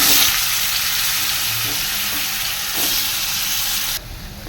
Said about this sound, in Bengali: এবার ভেজে নেবো আলুগুলো